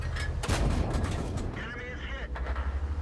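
A 75mm tank gun firing in World of Tanks, a heavy booming shot followed by rumbling echoes and distant artillery blasts, with someone talking over it.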